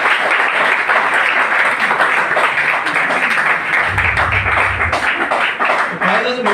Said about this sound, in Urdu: یہ تالیاں ہونی چاہیے اس کے لیے